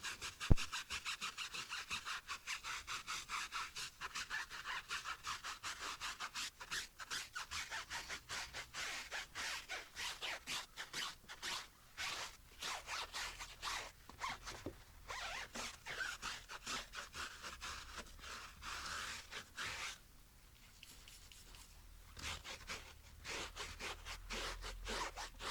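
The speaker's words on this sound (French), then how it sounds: "on va frotter la surface des pneus avec pour vraiment les nettoyer en profondeur" A rough brush scrubs car tyres during a winter exterior wash, making soft, rapid rasping strokes in an uneven rhythm that continue throughout, faint and close, with no talking.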